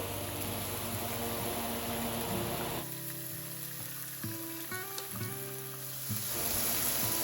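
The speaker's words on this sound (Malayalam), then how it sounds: "ഇനി ഇതിലേക്ക് ഞാൻ ചിക്കന് ചെറിയ ചെറിയ ക്യൂബായിട്ട് കട്ട് ചെയ്തിട്ട് ഇട്ട് കൊടുക്കുന്നുണ്ട്." Small boneless chicken cubes sizzle and crackle in sunflower oil for a butter chicken dish, a dense hiss that dips briefly as pieces drop in and are moved, then swells again, close and with no voices.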